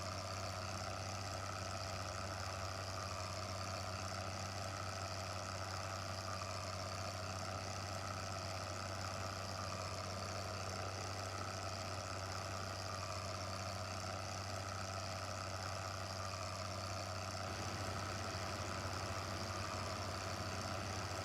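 A tractor engine idles steadily in Farming Simulator 15, with a cultivator disc hitched behind, making a continuous low drone that holds at an even, moderate level throughout with no talk.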